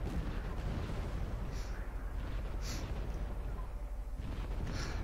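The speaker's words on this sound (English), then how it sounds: "That's my mortars trying to suppress the bucks that are up here." Mortar fire in the game Wargame: Red Dragon, a few muffled distant booms and bursts over a constant low rumbling battle ambience, fairly faint.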